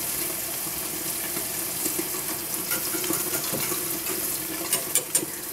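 Cold water runs from a kitchen tap in a steady, close rush, while cooling homemade yogurt or tofu, with a few small clinks near the end and no talking.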